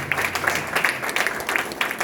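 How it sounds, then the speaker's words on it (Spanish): A church congregation claps in a quick, rhythmic beat, regular bursts of hand claps repeating steadily for a couple of seconds with no talk over them. "Demos un aplauso al Señor por eso."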